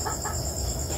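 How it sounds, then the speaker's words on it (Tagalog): Frightened chickens clucking close by in a steady agitated cluster, with a constant high insect-like whine running underneath. "Ito na natakot yung mga manok."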